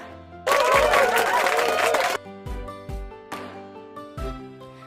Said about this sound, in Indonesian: Selamat, kita beri tepuk tangan dulu untuk kita semua.